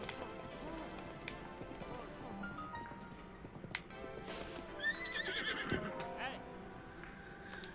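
A horse in Zelda: Breath of the Wild whinnies with a rising, shaky neigh over steady clip-clopping hooves and game music, while a person talks over it.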